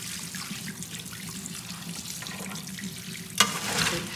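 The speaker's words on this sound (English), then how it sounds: "There, give it a final rinse." Running water from a tap pours steadily into a sink as crawfish are rinsed, a soft continuous splash close by with a brief sharp clatter near the end.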